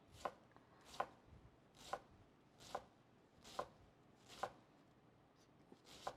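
Knife chopping through an onion on a cutting board, seven crisp evenly spaced strokes at a steady unhurried rhythm, close and clear against a quiet background with no talking.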